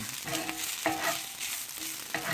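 Toasted garlic is stirred into fried rice in a pan: a steady low sizzle with irregular clinks and scrapes of the utensil against the pan, several sharp taps standing out, close and moderately loud.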